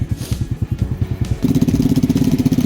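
A Lifan KP Mini 300 motorcycle with a 4-valve ZS175FMN engine chugs at a loud, close, pulsing idle, then its beat quickens and rises as the throttle opens.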